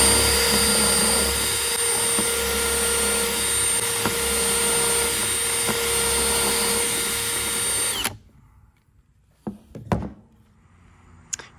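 Power drill boring holes through cornhole board parts in a workshop, a loud continuous whirring drive for about eight seconds that cuts off, followed by a few sharp knocks and clatters.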